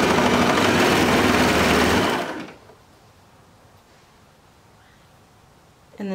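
A sewing machine stitches the curved edges of boy shorts, running in a loud, steady whir for about two seconds before stopping, followed by near-quiet with a brief clatter at the very end.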